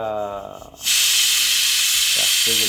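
A pressure cooker's third whistle bursts into a loud, sustained hiss of escaping steam while cooking dal, after a moment of quieter kitchen sound.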